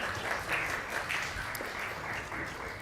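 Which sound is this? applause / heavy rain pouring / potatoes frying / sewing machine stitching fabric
applause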